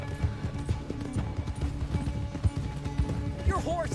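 Galloping horse hooves in Red Dead Redemption 2 make a rhythmic, moderately close clip-clop with a short whinny near the end, running under steady game dialogue.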